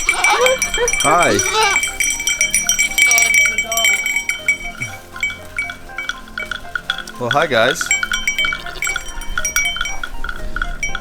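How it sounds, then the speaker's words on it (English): Goats bleating nearby beside a custom Toyota Land Cruiser, a couple of wavering cries rising over steady outdoor background, with people talking at the start. "We've just been interrupted by some goats who came to visit."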